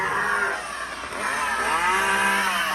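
Chainsaw prop held by an animatronic Leatherface figure in a Spirit Halloween store, revving with rising and falling whine over mall ambience, fairly loud and continuous.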